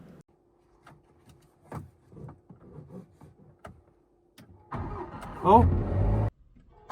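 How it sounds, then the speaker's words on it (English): A crashed Jaguar F-Type turns over and its engine catches, a loud close-up rumble that swells into a brief rev and then cuts off, preceded by scattered handling noises and a short exclamation from a person. "No way it actually started."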